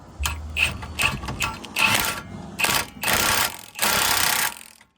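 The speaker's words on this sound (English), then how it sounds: "you can grab your impact with your 16 socket and the extension" An impact wrench with a 16 socket and extension on a coilover bolt of a 2002 Volkswagen Golf Mk4, several short ratcheting hammering bursts, then longer sustained rattling runs, close and loud with no talking.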